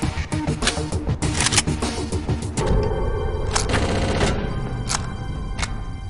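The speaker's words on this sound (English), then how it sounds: "These sound effects sound a lot like stock gun noises." Stock gunfire effects in the shooter game Chaser: dense bursts of rapid automatic shots and single cracks, loud and close, continuing without pause under a steady game background.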